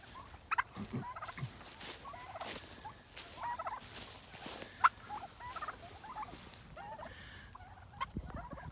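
Pastured turkeys behind a polywire fence make scattered gobbles, clucks and chirps at moderate distance, with intermittent rustling and patter spread across the stretch.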